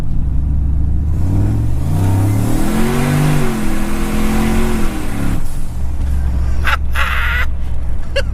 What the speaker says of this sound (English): I'm gonna floor it from like 30 miles an hour.